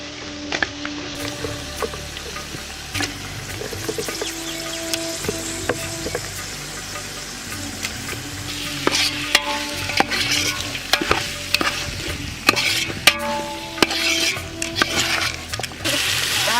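Cut chicken pieces for a village-style chicken dum biryani fry in a pan, a continuous sizzle broken by repeated scraping and clinks of a spoon stirring against the metal, close and without speech.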